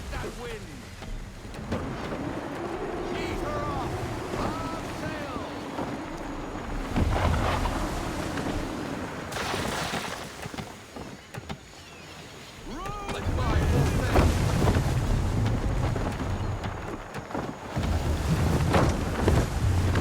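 A sailing ship in Assassin's Creed 3 Remastered, a video game, moving over waves: a steady wash of water and wind swells and fades, with voices talking over it throughout.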